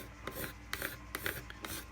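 A spokeshave shaves a wooden replacement hammer handle in four or five quiet rasping strokes, each a short scraping swipe at an even rhythm, close and faint.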